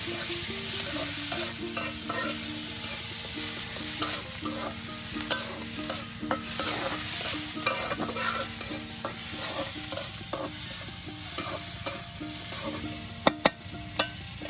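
Onions and green chillies frying in oil in a pan crackle with a dense, steady sizzle, stirred continuously with repeated spatula scrapes and a few sharp metal clinks near the end.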